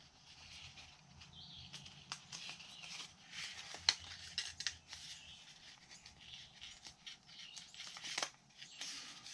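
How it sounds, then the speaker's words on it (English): A sheet of printer paper is accordion folded along 2-inch score marks, giving soft crisp rustles and creases in an irregular rhythm, close and faint, with no speech. "we're going to accordion fold on those 2-inch score marks"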